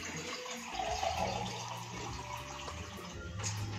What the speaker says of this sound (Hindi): आधा ग्लास और पानी डाल दें